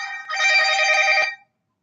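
A mobile phone ringtone chimes in a bright, bell-like burst lasting about a second, close and clear against silence, interrupting a horror-themed podcast conversation.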